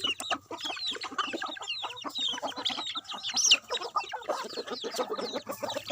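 Several free-range Thai native chickens cluck and chatter close by in a busy, continuous flurry of short calls.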